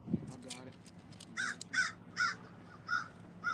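A crow caws six times in a steady series, fairly close and distinct, following a brief bit of talk at the start.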